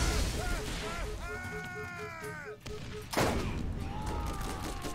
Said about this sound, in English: That is quite a fire explosion that I cause when it actually procs.